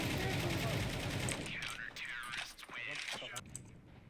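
Gunfire in Counter-Strike 2 on the Dust2 map, with dense rapid shots in the opening second and a half, then quieter scattered sounds and faint voices.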